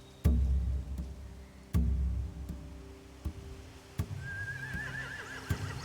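A horse whinnies amid a few sharp thuds and knocks in The Walking Dead: The Final Season video game, with a low rumbling ambience beneath; no voices.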